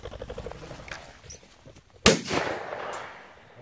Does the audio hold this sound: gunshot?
yes